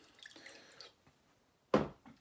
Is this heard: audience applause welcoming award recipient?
no